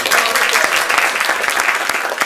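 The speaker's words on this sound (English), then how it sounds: "I think Emma deserves a big round of applause." Studio audience on a 2004 television game show breaks into loud, dense applause, a continuous wall of clapping from many hands, close and sustained throughout.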